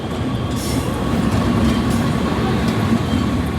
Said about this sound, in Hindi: इस ओर आ चुकी है डिब्रूगढ़ से लालगढ़ जाने वाली अवध असम एक्सप्रेस